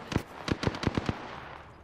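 Rapid gunfire in the video game Apex Legends, two separate bursts of sharp, loud shots in quick succession, about six cracks in all, then fading into quiet room tone.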